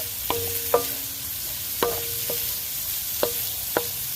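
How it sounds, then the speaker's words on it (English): Meat browning in a wok, a steady soft sizzle hiss broken by about six sharp spatula clicks and scrapes at irregular intervals, close and moderately loud. "I like to use the wok. More surface area. See how nice that meat's browned up?"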